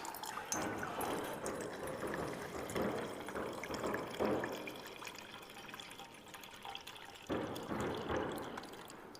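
Fuel poured to fill a triangular camping stove at a campsite in an abandoned mill, a continuous gurgling, trickling flow over several seconds with brief pauses and splashy surges.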